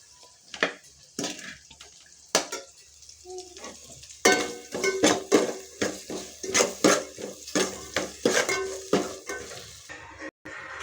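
A pot of sambar gets stirred in a home kitchen: a ladle clanks and scrapes against the metal in a quick run of close knocks over a faint simmer.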